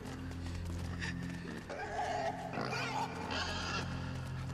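Pig grunting in the video game Inside, a few rough snorting grunts mixed with game ambience and shuffling, fairly close and moderately loud, with no talk over it.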